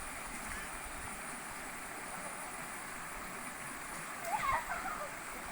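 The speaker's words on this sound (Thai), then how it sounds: "กวักน้ำใส่กะกะเลย เร็วเร็วเร็วกวักน้ำใส่กะกะเลย" Water in a stream is scooped and splashed by hand: a constant rushing wash of flowing water, with a brief, louder burst of splashing near the end.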